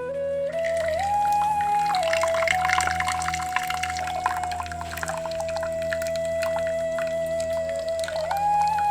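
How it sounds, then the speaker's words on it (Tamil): Water from cooked rice drained off while preparing wedding-style sambar, a steady pouring, trickling flow running close and continuous with some tonal ringing from the pot, no talking. "சாப்பாடு இப்போ நல்லா வெந்துருச்சு வடித்து எடுத்துடலாம்"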